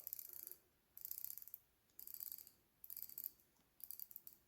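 The rotating bezel of a Seiko SKX007 dive watch is turned in four short bursts, each a rapid run of tiny close ratcheting clicks, quiet and crisp, separated by brief pauses with no talking.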